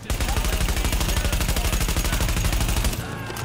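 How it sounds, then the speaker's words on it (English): Rapid, continuous SMG fire in the video game Mirror's Edge Catalyst, a loud even rattle of shots for about three seconds before cutting off. "Switch to the SMG."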